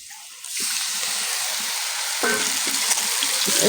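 Chili powder mixed in water poured into a pan of sizzling chicken with papaya and potatoes; a steady loud frying hiss swells as the liquid hits at about half a second, then a sharper crackling burst follows, with no talk.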